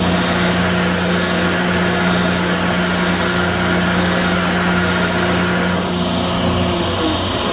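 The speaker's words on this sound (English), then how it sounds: "Here's a 6-inch joiner. It's an old Craftsman, and I've adapted it." An old Craftsman 6-inch jointer adapted for shop use runs continuously with a loud, steady motor whine and a constant mechanical hum that holds unchanged throughout.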